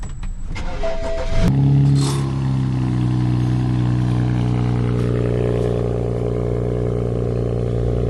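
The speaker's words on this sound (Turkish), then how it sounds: "Çalıştıralım arabayı ufaktan ısınsın." A car engine cranks and catches, then settles into a steady, loud idle as it warms up, close by with no talk over it.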